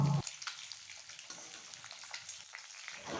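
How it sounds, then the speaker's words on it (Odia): Eggs frying in oil in a pan until browned, a steady close crackling sizzle with fine spattering pops throughout, after a brief clunk at the start. "କିଛି ସମୟ ପରେ ଅଣ୍ଡା ନାଲି ପଡ଼ିଲା ପର୍ଯ୍ୟନ୍ତ ତାକୁ ଆମେ ଏମିତି ଭାଜିବା।"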